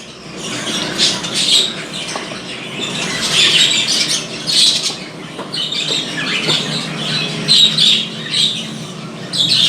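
Jumbo budgerigar chicks and their parent budgies squawk and chirp in a busy, continuous chorus, loud and close inside a breeding box, with no voices talking.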